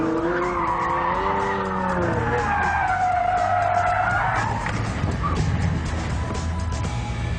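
A Pagani Zonda F sports car corners hard, its tyres squealing in a long rising and falling screech over the engine roar, loud and close.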